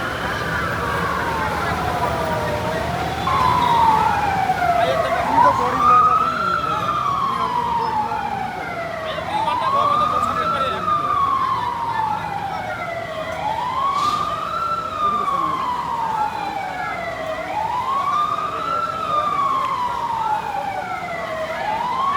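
Fire engine siren wailing in long rising and falling sweeps, loud and sustained for over twenty seconds, with voices talking faintly underneath.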